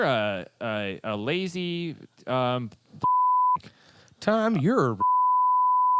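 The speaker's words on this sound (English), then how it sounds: "Beep that shit." Two flat, steady censor beeps cover swear words in a casual podcast conversation, one about half a second long and a longer one at the end, each cutting in sharply between bursts of talking.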